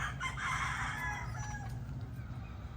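Local banded gamefowl roosters kept in small hardening pens crow outdoors, one crow standing out at moderate distance over a steady background of farm noise and faint clucking.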